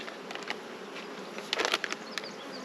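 Honey bees hum steadily around a hive colony, a close, continuous buzzing with individual bees droning past at varying loudness.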